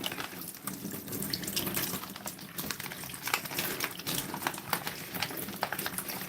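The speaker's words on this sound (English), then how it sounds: "so I'm just rinsing it out under water." Tap water runs over a baby food pouch as it is rinsed, a continuous splashing stream broken by irregular clicks and patters of the pouch being handled under the faucet.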